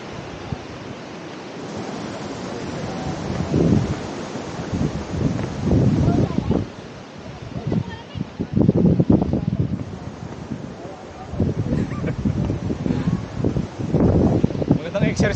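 Wind buffets the microphone on a boundary bridge between Aurora and Quezon province, a steady roar rising into heavy gusts, with someone talking over it at times.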